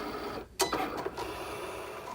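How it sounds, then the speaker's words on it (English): A Cricut cutting machine starts measuring and cutting light cardstock for wedding RSVP cards, giving a sudden mechanical clunk and whir, then a steady, quiet motor hum nearby. "I hit the button on my machine and it starts measuring and cutting."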